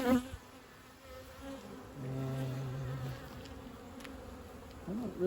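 Honey bees from a strong overwintered colony buzz inside an opened hive during an inspection, a steady close drone with a louder swell in the middle and brief nearer wingbeats toward the end.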